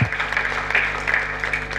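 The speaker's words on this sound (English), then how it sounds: "Give up a big round of applause to sir" Audience applause in a large hall at a keynote gathering, dense continuous clapping at a steady level with a low hum beneath and no speech.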